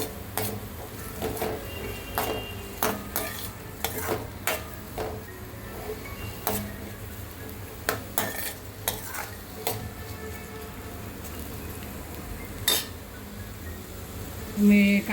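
Medium-cut onions being stirred and fried in a pan with a little salt, with a soft sizzle under frequent sharp scrapes and clinks of a spoon against the pan at close range.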